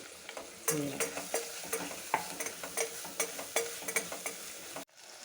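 Curry leaves sizzle and crackle in hot oil while being stirred in a pan, with repeated scraping strokes over a steady frying hiss, close and fairly loud, ending abruptly.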